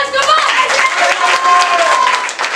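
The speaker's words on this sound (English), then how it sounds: "Big round of applause, come" Audience applause fills a talent hunt event at an English-learning café, loud and continuous, mixed with a voice speaking and crowd noise throughout.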